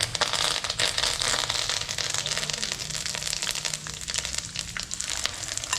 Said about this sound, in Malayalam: ബാക്കി മട്ടൺ നമുക്ക് ഇതുപോലെ തന്നെ ഒന്ന് വറുത്തെടുക്കാം.